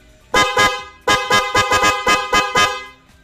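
A Korsa car horn, said to have kept its tone for ten years, is tested with a string of about eight loud, close honks: two short blasts, a pause, then six more in quick succession.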